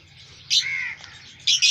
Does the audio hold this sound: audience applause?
no